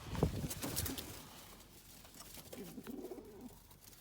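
Soft cooing from a male tumbler pigeon, a few low throaty murmurs rising near the end, with faint rustling and bird activity around.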